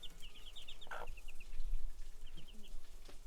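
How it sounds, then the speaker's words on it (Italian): Chickens with a rooster in a mountain hermitage village, heard as a soft, steady run of short high clucks and calls at a moderate distance over a quiet outdoor background. "alle mie spalle, qui, i polli col gallo su"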